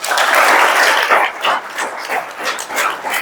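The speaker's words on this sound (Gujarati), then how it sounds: "તમારા માટે એકવાર જોરદાર તાળી પાડ દો." Bursts of audience clapping at a science institute event, loud and close at first, then breaking into uneven waves of claps.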